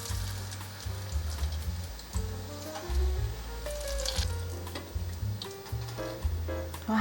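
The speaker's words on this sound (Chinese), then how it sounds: "另一面也让它炸出焦感。 都炸成金黄色了，" Taro slices frying in hot oil until golden, with a constant close sizzle and crackle under background music, popping and spitting throughout.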